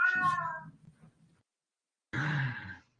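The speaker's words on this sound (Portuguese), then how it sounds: "Olha o gato gritando aqui, né?" A house cat lets out two loud, drawn-out meows indoors, the first trailing into a low grumble, then a brief pause before a second harsh yowl.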